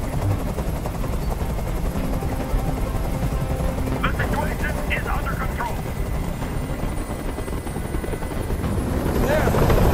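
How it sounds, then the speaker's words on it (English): A helicopter hovering overhead in the video game Detroit: Become Human, a loud continuous rotor roar that fills the scene, with faint voices and a slight swell toward the end. "I can't stand that noise anymore! Tell that helicopter to get out of here!"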